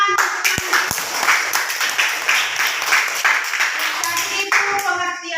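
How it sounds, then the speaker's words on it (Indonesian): A classroom group claps together in a dense burst of many hands lasting several seconds, close and fairly loud, with a couple of sharp single claps at the start and a voice speaking briefly near the end. "Ya, tepuk tangan."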